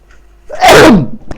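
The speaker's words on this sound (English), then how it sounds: "I think I might be about to sneeze." A single loud, close sneeze bursts out after a brief quiet moment, followed by a small sharp sound.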